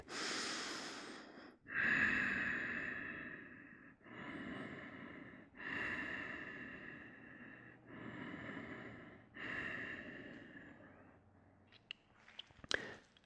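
Slow, deep breaths held in a yoga warrior three pose, each long inhale and exhale rising and fading in a steady rhythm, close and clear with no talking.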